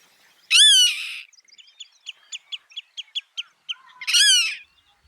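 Common snipe calls: two loud, harsh rasping notes with a quick series of short, evenly spaced ticking chips between them, sharp and fairly close against a silent background.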